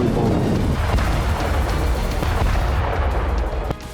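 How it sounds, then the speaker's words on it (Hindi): A heavy, rumbling bomb blast from an air strike rolls on for several seconds with crackling debris, loud and close, then cuts off abruptly. "देखिए कैसे बम गिरने के बाद एक तेज धमाका हुआ"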